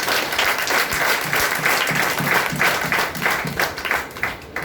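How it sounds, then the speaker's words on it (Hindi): Sustained audience applause fills a seminar hall in Bihar, dense and steady clapping from a large crowd that swells and holds for several seconds with faint voices underneath. "आपके लिए जोरदार ताली होगी।"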